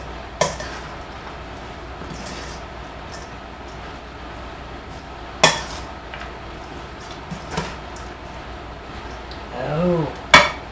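Coleslaw tossed in a bowl, with soft clattering scrapes of utensils against the dish, a few sharp knocks and a shuffling rustle near the end, close and moderate in level with no talk.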